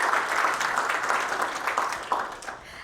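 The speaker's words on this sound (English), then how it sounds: "let's give one more round of applause for Miss Patricia Kelly" Audience applause at an awards ceremony honoring a finalist, a dense steady patter of many hands clapping throughout, moderately loud and fading slightly toward the end.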